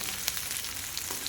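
Ivy gourd pieces fry steadily in hot oil, a dense, even sizzle with a few sharper pops and crackles, close by and with no voices.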